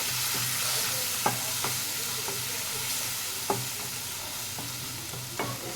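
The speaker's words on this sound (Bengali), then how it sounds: "আবারও ভালো করে 1 থেকে 2 মিনিট মশলাটাকে ভেজে নেব" Spice masala for an aloo rajma curry fries softly in a pan with a little water, a steady low sizzle broken by occasional scraping stirs of a spoon, quiet and without speech.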